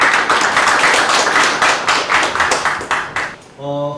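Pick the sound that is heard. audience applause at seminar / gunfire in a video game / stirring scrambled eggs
audience applause at seminar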